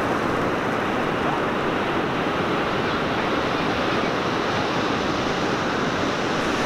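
Ocean waves break on the beach at Manuel Antonio, Costa Rica, at sunset, making a loud, continuous wash of surf that stays steady throughout with no voices.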